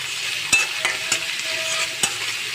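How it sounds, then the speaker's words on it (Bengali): Chopped onion frying in oil in a pan makes a close, steady sizzle, punctuated by several sharp spatula taps and stirring scrapes, with no talking. "প্যানেতে আমি তেল দিয়েছি, দিয়ে আমি এখানে পেঁয়াজ কুচুটা আমি দিয়ে দিয়েছি।"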